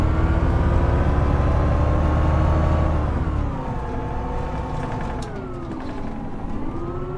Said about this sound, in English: Listen to that hum of that engine.